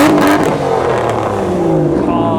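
A supercar engine revs hard in a rev-off at a supercar weekend show, loud and close, with a falling howl after the initial blip.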